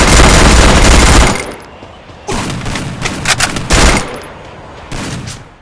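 Bursts of rapid gunfire from the mobile battle game Free Fire come in loud, close volleys: a long opening barrage, a pause, then several choppy bursts and a final short one.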